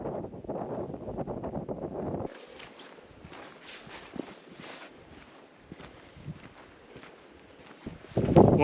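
Wind buffeting a microphone on a breezy day while hiking along a valley in northern Sweden, rough gusty rumble in the first two seconds, then softer rustling with faint scuffs, and a strong gust at the end.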